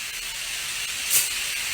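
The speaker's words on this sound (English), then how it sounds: "Then let's spray the mirror." Glass cleaner sprayed onto a bathroom mirror from a trigger bottle: one short, bright hissing burst of spray over quiet room tone, close by.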